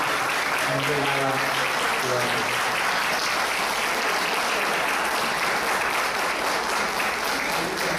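Audience applause fills a lecture hall in a dense, steady wash of clapping that runs the whole time, with a few brief voice fragments underneath.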